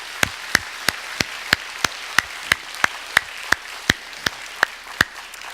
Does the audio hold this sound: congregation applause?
yes